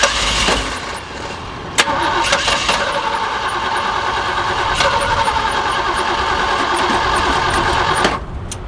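A Jeep J10 that has sat for years cranks over repeatedly without catching, its starter spinning the engine in a steady loud churn with sharp clicks at the start and end.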